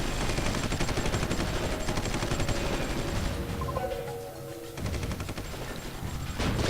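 Sustained gunfire bombarding a fort in the strategy game Supreme Ruler 2020, a dense, continuous rattle of shots that eases briefly near the middle before the barrage swells again.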